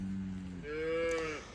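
A single cow on a pasture lets out a long, close moo that rises in pitch midway, heard clearly over quiet farm background.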